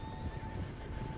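A horse in the video game Red Dead Redemption 2 whinnies and its hooves clip-clop steadily over a constant electronic hum and low rumble, close and moderately loud.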